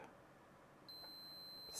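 A steady high-pitched multimeter continuity beep, testing a Commodore 64C circuit, starts partway in and holds continuously to the end, over faint background hiss.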